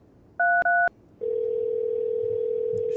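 In the video game No, I'm Not Human, a telephone keypad sounds three short, loud dialing beeps, then a sustained steady tone holds to the end, with no talking.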